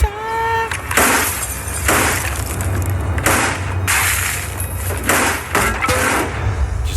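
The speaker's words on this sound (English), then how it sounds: "I'm hearing glass breaking." Glass breaking in a series of loud, close crashes and shattering bursts over about seven seconds, each burst trailing into scattered tinkling debris, with no voices.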